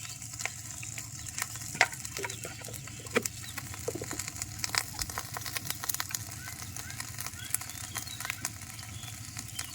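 Ginger garlic paste sizzles in a hot pan while cooking a tengra fish and pumpkin dish, a continuous soft frying crackle with scattered pops and stirring taps, heard under occasional talk.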